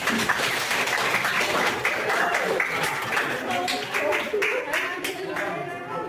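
A classroom audience applauds with a steady patter of clapping, fairly loud and continuous, voices mixed in underneath, during a teaching practice session.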